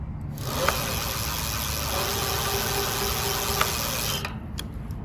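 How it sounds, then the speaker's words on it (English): A continuous motorized whine and hum of a 2022 Kakuka K70 electric road bike drivetrain running on throttle, steady and close, cutting off abruptly near the end. "here's what the drivetrain sounds like using the throttle"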